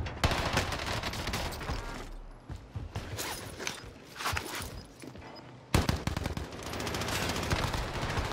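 Rapid automatic AK47 bursts in Call of Duty Warzone on Rebirth Island, several loud sustained volleys of close gunfire with mechanical clatter, broken by brief pauses and a sharp restart midway.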